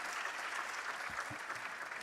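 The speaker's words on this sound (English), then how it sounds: "A round of applause to thank them." Delegates applaud to thank officials at the Saudi Green Initiative gathering of world leaders in Sharm el-Sheikh, a steady, uniform hall applause of many hands with a couple of low thumps partway through.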